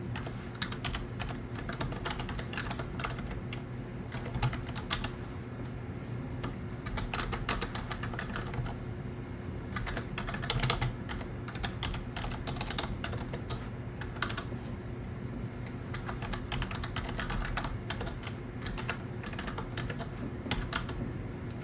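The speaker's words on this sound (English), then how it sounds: "let me type it to make it clearer" Typing on a computer keyboard while coding a Java string-reorganizing solution, a steady patter of quick key clicks in uneven bursts, close and moderately quiet with no talk over it.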